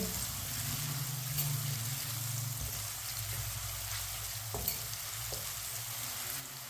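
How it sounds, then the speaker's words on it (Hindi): Onions browning in a pan for Punjabi-style aloo matar, a steady close sizzle broken by soft scraping as a spoon stirs them, with no talking. "प्याज को हल्का सा ब्राउन कर लेंगे, इसी तरह चम्मच चलाते हुए"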